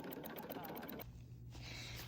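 An embroidery machine stitches a design onto a denim pocket with a steady, rapid mechanical chatter that runs throughout, then briefly eases into a quieter hum before the stitching resumes.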